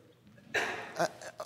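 One sudden human sneeze bursts out close and loud, followed by a couple of short, softer breathy sounds.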